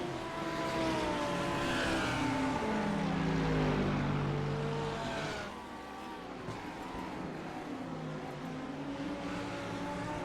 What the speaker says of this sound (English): there is no better sound than that Mercedes when it goes by